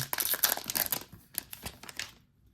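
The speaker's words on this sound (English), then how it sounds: "you hear the sound of the cards shuffling and the pack opening" Crisp crinkling and tearing of a 2025 Topps Heritage foil card pack being opened up close, a quick burst of rustles that stops abruptly.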